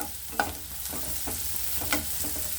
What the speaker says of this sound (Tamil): வெங்காயம் நல்லா வதங்கிடுச்சு கோல்டனாக